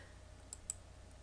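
A computer mouse gives two quick, light clicks while saving a file in Python IDLE, close and crisp over faint room hum.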